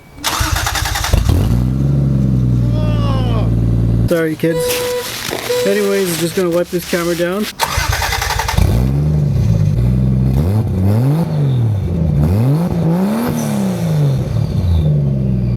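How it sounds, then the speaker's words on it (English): A Toyota Supra engine with a cat-delete exhaust revs repeatedly in rising and falling swells, loud and close, after a stretch of idle, with someone talking over the start. "And now we're going to have a listen to the exhaust."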